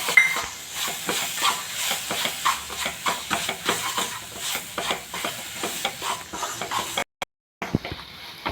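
Semolina stirred into sautéed bananas in a pan: rhythmic, repeated scraping strokes of a spoon over a soft sizzle, close and steady, ending with a brief cutoff.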